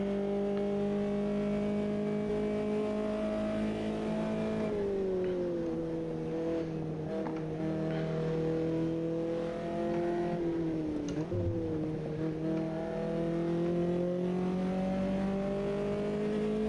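A small formula racing car engine in the AMS2 racing game drones at high, steady revs, with the pitch dipping and rising through shifts and corners and holding loud and constant.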